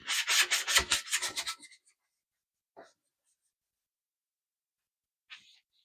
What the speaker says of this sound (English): I'm actually going to try to sand the rust off of this and just get it one color